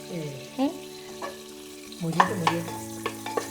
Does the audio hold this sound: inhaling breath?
no